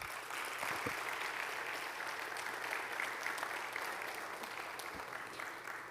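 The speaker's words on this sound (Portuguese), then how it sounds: "eu peço uma salva de palmas para elas." Steady, moderately distant applause from a church audience, sustained evenly for several seconds with a few low thumps and no speech over it.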